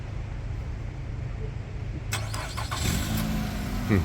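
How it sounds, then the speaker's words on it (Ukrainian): A 2018 Nissan Rogue SV engine turns over via remote start at about two seconds, then settles into a steady idle with some rattling, over a low background rumble. "тут ще є автозапуск"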